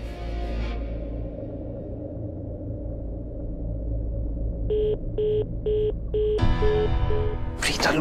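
A telephone call goes busy: a steady low hum is followed by four evenly spaced short tone bursts and then longer repeated tones, clear and close.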